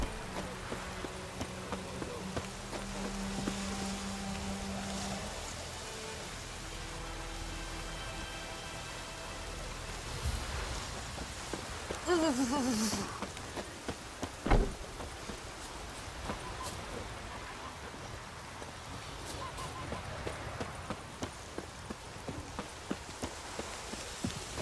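Steady rain falls across an outdoor scene in The Witcher 3 video game, a soft continuous hiss with scattered droplet ticks, joined midway by hoofbeats and a few brief bursts of other game sounds.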